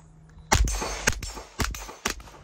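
Four heavy shotgun blasts from a Standard Manufacturing Jackhammer fed from a drum magazine, fired at an even pace about half a second apart, loud and close with ringing tails.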